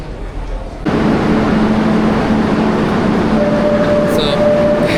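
A Barcelona metro train on line L5 rumbles loudly through the station with a sustained roar, a faint tonal whine rising over it, close and continuous.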